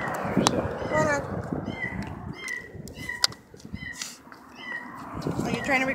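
A kitten meows from inside a storm drain, several short high cries scattered through steady outdoor background noise, with people talking nearby.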